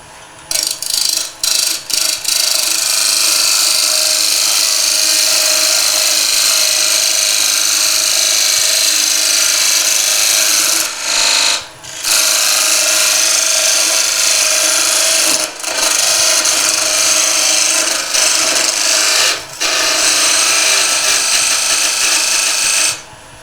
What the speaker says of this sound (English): I'm going to cut that tenon.